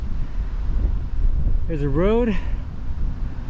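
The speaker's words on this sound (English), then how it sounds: "Whoa, yeah, it's windy." Wind gusting across an Appalachian Trail hiking path in Pennsylvania, a continuous low rumble buffeting the microphone, with a person speaking briefly over it.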